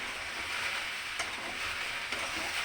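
Okra stir-fry seasoned with pepper and salt, frying and being mixed in a pan: a continuous crackling sizzle with a couple of sharp spatula clicks against the pan, no voices.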